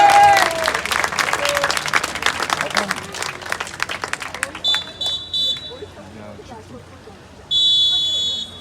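Spectators at a swimming race applaud loudly in an indoor pool hall while an announcer speaks over them, the clapping fading as high electronic beeps sound, ending with a longer sustained tone.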